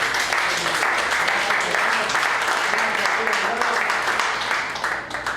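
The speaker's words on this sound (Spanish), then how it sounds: "Le damos un fuerte aplauso al hermano Sergio también" A church audience applauds for Brother Sergio in a dense, steady wash of clapping that fills the room, loud and sustained throughout with a slight fade at the very end.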